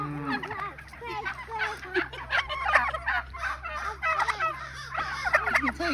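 Several turkeys at a farm gobble repeatedly in loud, overlapping bursts close by, their warbling calls rising and falling over a low steady background hum.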